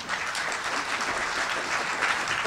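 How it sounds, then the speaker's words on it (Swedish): Steady applause from a conference audience, dense clapping that holds at an even, fairly loud level throughout with no talking over it. "Ska vi ge honom en applåd?"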